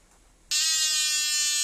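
Homemade PWM inverter with a gate drive transformer switches on abruptly after a brief quiet moment, then holds a loud, steady high-pitched electrical buzz.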